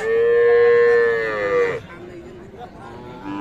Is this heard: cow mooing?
yes